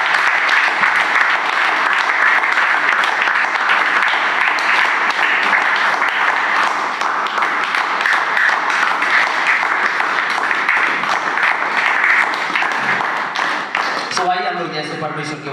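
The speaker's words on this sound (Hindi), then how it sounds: "क्या आप ताली बजा सकते हैं परमेश्वर की महिमा के लिए?" Church congregation applauding continuously, a dense steady roll of many hands clapping that holds loud for the whole stretch before tapering at the end, with a voice briefly emerging.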